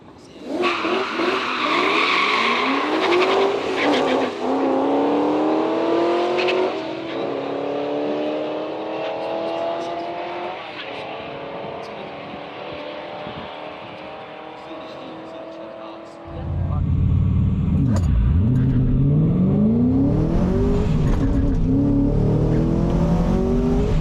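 A supercharged Ford FG XR8 Ute revs and accelerates hard with tire squeal, loud and sustained, engine pitch climbing through long pulls before a sudden roar of heavier noise near the end.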